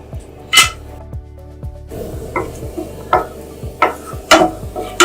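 Cashew nuts fry lightly in two spoons of hot ghee in a pan, with soft sizzling and intermittent scraping stirs and utensil clinks over a steady background tick.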